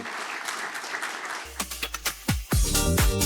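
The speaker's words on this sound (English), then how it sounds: "Please give them a round of applause." A burst of clapping from an audience at a game-industry conference panel, brief and lively, with a few sharp thumps and voices cutting in toward the end.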